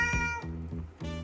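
A young kitten meows close up in about three bright, strained calls, the first strong, the middle one shorter and choppier, and the last rising again at the end, with no talk.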